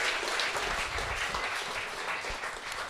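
A pub quiz crowd gives a short round of applause, a steady, moderately distant patter of clapping from a modest audience, lasting a few seconds without speech.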